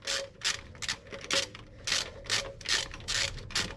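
Bolts on a Toyota Aristo 2JZ-GTE engine are tightened with a ratchet during a timing belt change, giving a steady series of close, sharp clicking bursts in a quick rhythm.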